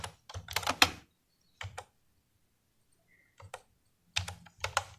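Keys on a computer keyboard are tapped as numbers are entered, coming in short clustered bursts of crisp, close clicks separated by silent pauses.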